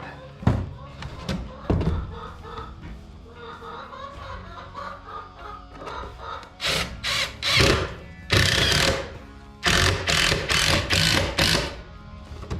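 A power drill drives screws into the side of a chicken coop in a barn, with several loud whirring bursts in the latter half. Chickens cluck and someone talks in the earlier part.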